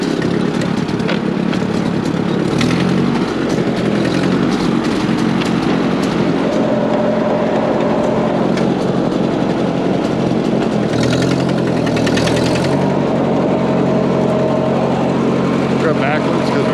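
Tractor engine running steadily throughout at close range, a continuous droning rumble with slight shifts in pitch as it works, while a person talks intermittently over it.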